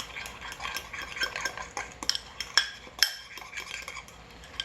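A utensil stirs chocolate lava cake batter in a bowl with quick rhythmic scraping and occasional sharp clinks against the side, close and alone.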